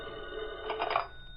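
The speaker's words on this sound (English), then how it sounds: "Be quiet long enough for me to answer the phone." A telephone rings once as a radio drama sound effect, a short bell trill, fairly faint, heard alone without talk.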